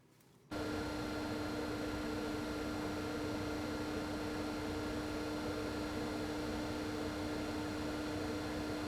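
A Hengs Vortex roof fan switches on after a brief quiet moment and runs with a steady, loud whoosh of moving air and a constant hum, continuing unchanged with no talking.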